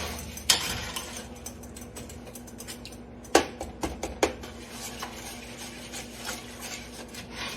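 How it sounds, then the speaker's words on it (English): A spoon scrapes and clinks against a metal pot while caramel cake icing is stirred, giving a series of close, uneven scraping knocks and rubs over a low steady background. "we're going to stir it and bring it to a boil"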